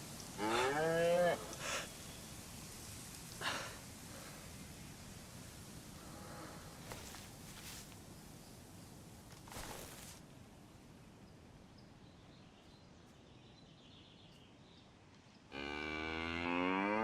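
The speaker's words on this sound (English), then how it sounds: "I've got a cow for the rear guard." A cow in the game DayZ moos several times, drawn-out calls heard moderately close over a constant windy hiss, with a louder low moo rising again at the very end.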